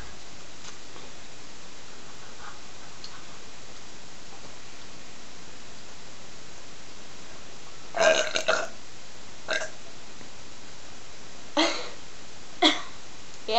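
Several short, throaty burps from a burping contest between cousins: one longer belch followed by a few separate brief ones spaced over several seconds, fairly close and loud against a quiet background.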